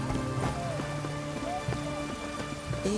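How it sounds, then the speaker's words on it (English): Steady rain in the video game The Witcher 3 patters across a surface with scattered drops and faint tonal blips, a continuous wash of moderate loudness with no voices. "It's raining, of course it's going to be done."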